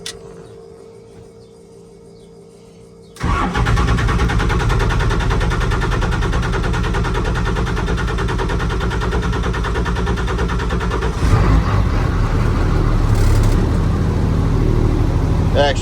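A Cummins diesel engine cranks and fires, then settles into a loud, steady rattling idle close by that continues to the end, while someone talks over it.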